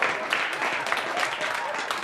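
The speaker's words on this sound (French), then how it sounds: "on va applaudir bien fort." Audience applause in a French television film, a dense, steady wash of many hands clapping at close range throughout, with no pauses.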